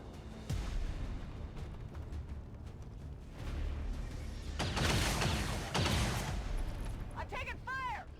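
Video game gunfire rattles in bursts, with heavy fusillade-like volleys in the middle of the stretch and a few sweeping electronic tones near the end, all fairly quiet.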